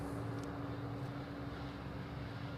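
An airliner arriving from Hilo at Honolulu airport makes a steady, broad jet roar with a low hum, heard from a distance and unchanged throughout with no voices.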